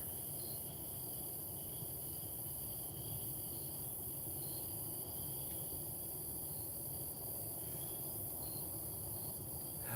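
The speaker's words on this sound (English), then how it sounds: "you can actually hear the crickets and the other bugs" Crickets and other insects chirp at night around an outdoor burn barrel, a faint, continuous high trill with pulsing chirps over low background hum and no voices.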